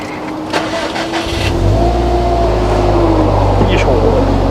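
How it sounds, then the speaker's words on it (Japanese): A Subaru Impreza WRX STI (GRB) engine cranks and catches, settling into a steady low idle rumble that continues loud and close. "じゃあエンジンかけますね。"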